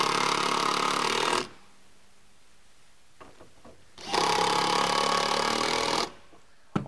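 A power driver whirs loudly in two sustained bursts, driving screws through an AES Raptor gravel stop into 2x6 wood blocking, with a quiet pause and faint handling clicks between them.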